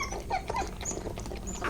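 Newborn puppy whimpering faintly during a dog's birth, with soft, thin high whines and squeaks over a low background hum.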